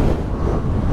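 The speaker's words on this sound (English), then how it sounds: "This wind is intense." Strong wind roars steadily across the microphone at a scenic motorcycle stop, a dense low rumble with constant buffeting and no voices.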